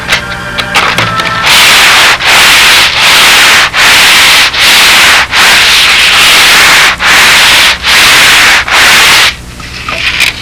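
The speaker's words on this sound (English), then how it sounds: "now the final little bit I can take with my long sanding block" Rhythmic strokes of a long sanding block scraping across wood on a model aircraft's stabilizer, about nine long back-and-forth passes in a steady loud rhythm, close up.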